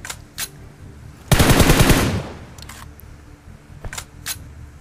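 A loud close burst of rapid automatic gunfire erupts in the mobile battle royale game PUBG Mobile, followed by scattered fainter shots and game sounds.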